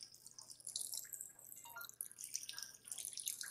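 Running water in the VR game Job Simulator, a light patter of drips and trickling splashes from a tap, faint and steady with small irregular bursts.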